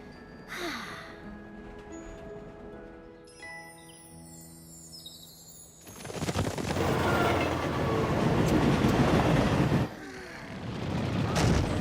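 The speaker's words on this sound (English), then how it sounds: "We're getting awfully close to the train." A train rumbles past close by, a loud broadband roar building suddenly and holding steady, with a brief dip before surging again.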